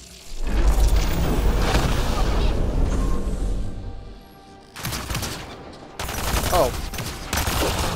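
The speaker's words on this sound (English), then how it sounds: "This is a sniper rifle being a bit excessive here." Heavy weapon fire in the sci-fi shooter Mass Effect Andromeda, attributed to a sniper rifle, with loud booming blasts and chaotic combat noise in sustained bursts, separated by brief pauses, and a short exclamation heard.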